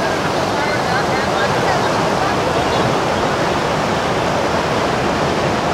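The river at Kasol roars in a loud, continuous wash of rushing water, steady from start to finish with no breaks.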